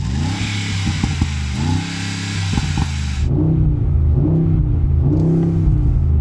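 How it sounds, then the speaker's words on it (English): A Mercedes G-Class German V8 revs repeatedly, the engine note climbing and bouncing against a soft limiter in loud, close bursts with a steady idle rumble between the pulls. "Go on, Nabil, let's have a listen to your German V8"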